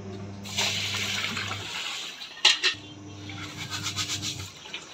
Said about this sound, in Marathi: चांगले चोळून धुवून काढायचे गहू.